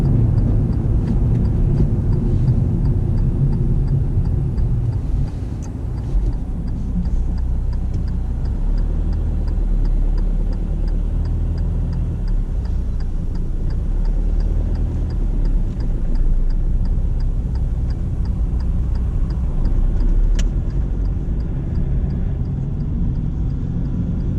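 Car interior during a driving test while the car moves through a roundabout, a steady low engine and road rumble throughout, fairly loud and even, with no talking.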